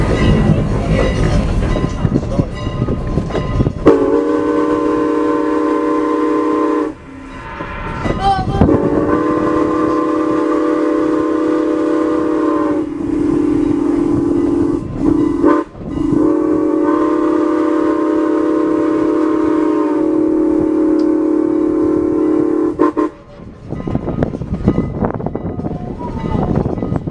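Strasburg Rail Road steam train running in early winter, with long loud blasts of its steam whistle repeated several times over the rumble of the moving cars, close by.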